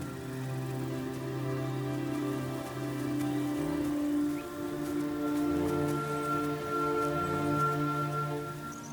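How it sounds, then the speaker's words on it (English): Heavy rain falls steadily in the northern Serengeti, a dense continuous patter across the whole stretch with a faint tonal drone running beneath it. "Right now it's raining a lot more in the northern Serengeti than in the south."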